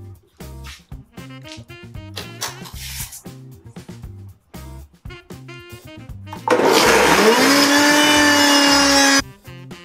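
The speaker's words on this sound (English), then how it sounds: "now we will blend this up and see what happens" A kitchen blender whirs at full power for about three seconds, loud and steady as it blends a homemade vegan egg mixture. Clattering and handling sounds come before it.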